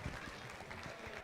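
A crowd at a junior livestock heifer show in Highlands County applauds, a soft, distant patter of clapping that holds steady for a moment.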